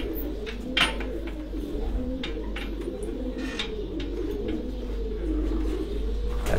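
Racing Farran pigeons at a tournament in Gujrat coo softly in low wavering tones, steady beneath a constant background hum and distant crowd noise.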